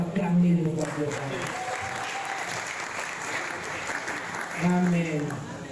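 A church congregation applauding at a French-language service, two brief swells of clapping at the start and end with a voice speaking in between.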